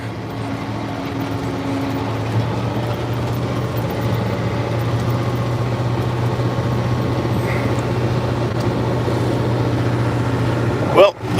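An International 4786 tractor engine drones steadily from the operator's seat, a low constant rumble with a faint higher whine that eases slightly as it is throttled down, ending in a brief loud clunk.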